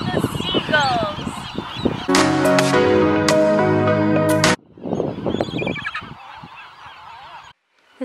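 Loud, harsh honking calls from seagulls on Anacapa Island, in repeated overlapping bursts close to the microphone. One long strident stretch is followed by quieter scattered cries.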